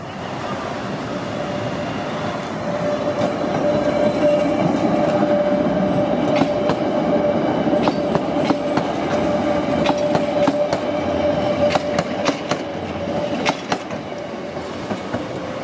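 A Chicago CTA Pink Line L train runs at grade past a level crossing. Its loud, steady rumble carries for the whole stretch, with rhythmic clickety-clack wheel beats and occasional sharp metallic squeals.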